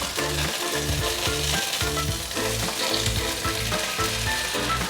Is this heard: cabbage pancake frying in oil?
yes